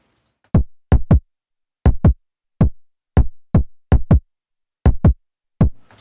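Two layered kick drums from Native Instruments Battery, playing a sparse, punchy pattern of about fourteen close, loud hits, some in quick pairs, with nothing else underneath.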